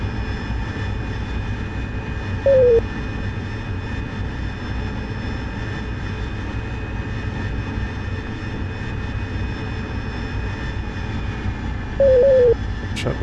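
Jet engines in the DCS World flight simulator throttle back during an anti-ship strike mission, giving a loud, steady turbine roar with a constant whine throughout and two brief beeping tones.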